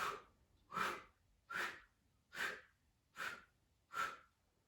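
Six slow, deep breaths, close and fairly quiet, are drawn in and pushed out in an even rhythm during a core workout, each a breathy whoosh with short pauses between.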